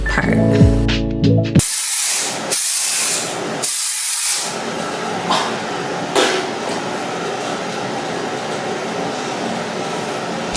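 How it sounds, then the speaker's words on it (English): Hair product sprayed from a can and brushed into hair, heard as a few short hissing spray bursts near the start followed by a long, steady, close breathy hiss. "You want to spray a generous amount and brush it in."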